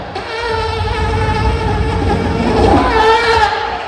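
A human voice imitates a mosquito's buzz on stage during a Tamil comedy show at the 2024 Kanchipuram book fair: a sustained, wavering nasal whine that holds steadily for nearly four seconds.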